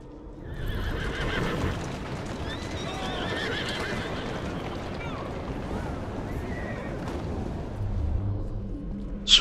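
A horse in the game Assassin's Creed Syndicate whinnies loudly over fast clip-clopping hooves and rumbling ambient noise, the galloping continuing steadily throughout.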